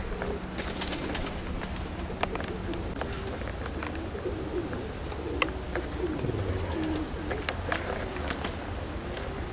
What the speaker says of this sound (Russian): Пара каких-то голубей села.